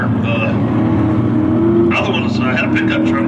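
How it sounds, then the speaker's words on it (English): Mini Stock Mustang race cars with 2300cc four-cylinder engines droning around a speedway in a steady, loud pack, with a commentator talking over the engine roar. "2300cc four-cylinder engines in all these Mustangs"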